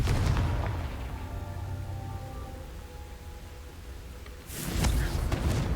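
A Confringo fire spell explodes in the Hogwarts Legacy video game, a loud booming blast at the start that rumbles and fades, followed by another burst near the end.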